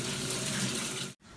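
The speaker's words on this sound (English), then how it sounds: "we have to clean it with water. Make sure it is clean so no dirt is still there." Running water rushes over harvested cassava roots as they are washed, a steady close splashing stream that cuts off abruptly near the end before a faint trickle resumes.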